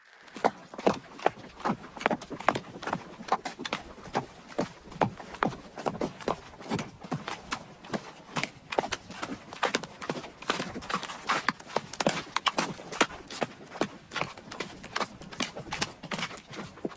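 A horse's hooves clip-clop in a steady, brisk rhythm of many sharp clicks during a ride in the Star Stable Online video game, moderately loud and alone.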